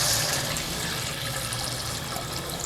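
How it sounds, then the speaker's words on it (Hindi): Two glasses of water are poured into a pot of ginger-fried chicken for a sweet and sour chicken soup. A steady gushing, splashing pour runs continuously, close by and moderately loud, with no talking. "अब हम इसमें शामिल करेंगे 2 गिलास पानी"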